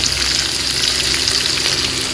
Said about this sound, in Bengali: মাংসের আলু ভাজা।